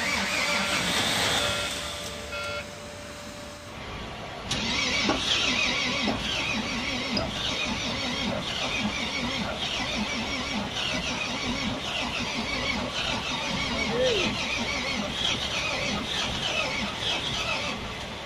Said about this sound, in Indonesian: Selanjutnya kita coba untuk menghidupkan atau start engine.